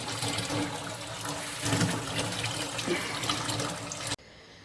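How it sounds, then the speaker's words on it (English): Tap water runs steadily and fairly loudly into a sink for a dog bath, a continuous close gush that cuts off abruptly near the end. "and good running water"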